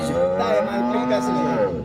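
A cow at the Sangola cattle market, a long animal in good condition, gives a single loud, sustained moo lasting well over a second, close by with no talk over it.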